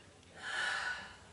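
One deep, audible inhalation through the nose during a guided breathing exercise, a soft rising breath that swells and fades over about a second, close and quiet, with no talk.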